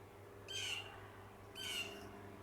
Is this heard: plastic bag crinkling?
no